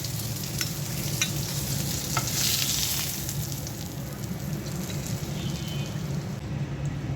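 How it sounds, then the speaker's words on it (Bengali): Fish frying crisp in a pan with chopped onion and green chili nearby, giving a steady close sizzle and crackle throughout, with a few sharper pops and stirring scrapes and no talking. "মাছটা কড়া করে ভেজে নিয়েছি এখন উঠিয়ে নিচ্ছি"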